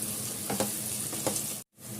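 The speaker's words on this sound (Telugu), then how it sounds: "ఉల్లిపాయలు, పచ్చిమిరపకాయలు మంచి బ్రౌన్ కలర్ రానిద్దాం" Onions and green chillies fry with salt in a pan, giving a dense, even sizzle punctuated by a couple of soft stirring scrapes before a brief dropout and return of the hiss.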